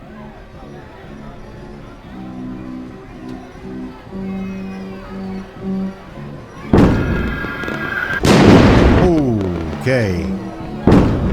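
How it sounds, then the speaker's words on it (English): Fireworks explode at a carnival in an indie horror video game. After quieter game ambience with a brief spoken word, several loud, close bangs and crackling bursts arrive in the last few seconds. "Don't like the fireworks."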